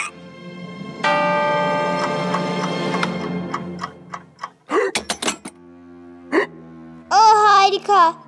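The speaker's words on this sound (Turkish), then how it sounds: "Bu sevimsiz hıçkırık nasıl geçer?" Cartoon character hiccuping in the animated series Masha and the Bear, sharp bursts between musical notes and a ticking, bell-like tune, with a voice talking in between.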